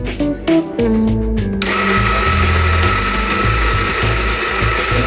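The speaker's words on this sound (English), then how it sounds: "To start the grinder, move the switch to the manual position" A Gourmet burr coffee grinder starts after a few short mechanical clicks and tones, then runs steadily with a loud, even motor whine and gritty grinding of beans close by.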